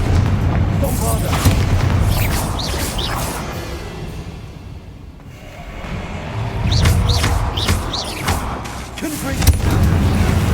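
Bombarda explosion spells in the Hogwarts Legacy video game go off as loud booming blasts with whooshing swells, dipping briefly mid-clip before a fresh barrage of crashes and bursts, with a voice calling out over the game sound.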